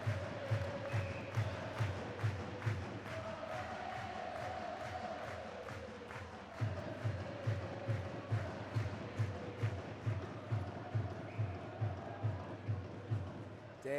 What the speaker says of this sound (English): Clan fans give Fitzy a round of applause and a wee song for his troubles